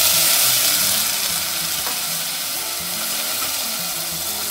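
Vermicelli and meatballs sizzle and fry steadily in a pot for a yoghurt soup as water is poured in, a continuous close crackle that eases slightly in level, no voices.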